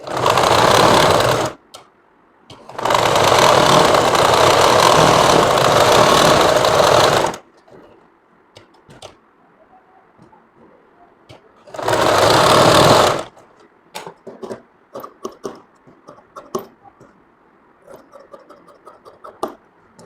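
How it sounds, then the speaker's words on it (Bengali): A sewing machine stitches a kameez collar in loud, steady whirring bursts: a short run, a long run of several seconds, then a brief final burst. Quieter clicks and fabric handling fill the gaps, with no talking. "কলার উপর দিয়ে সেলাইটা দিতে হবে"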